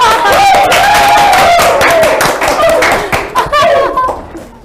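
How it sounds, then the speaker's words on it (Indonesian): An audience at a campus talk event claps loudly and continuously, with a voice speaking and some laughter over the clapping before it thins out near the end. "Ya, tepuk tangan dulu dong."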